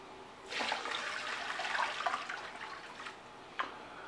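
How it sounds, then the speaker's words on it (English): Cold water pours steadily from a tap into a cooler holding a frozen turkey, a continuous splashing rush close to the mic, ending with a brief splash near the end. "Now just add cold water"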